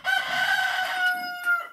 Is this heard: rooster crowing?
yes